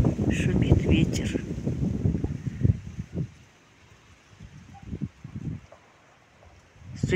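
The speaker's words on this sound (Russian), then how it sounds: "Слышите, как шумит ветер?" Wind gusting along an autumn riverbank, a broad rushing roar that swells loud at the start, drops away, then returns in softer gusts, with someone talking over parts of it.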